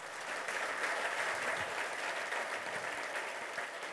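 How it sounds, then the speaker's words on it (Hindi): A meeting audience gives loud applause for a guest of honour, a thick, sustained wash of clapping that holds steady for several seconds. "साहब के लिए जोरदार ताली होनी चाहिए।"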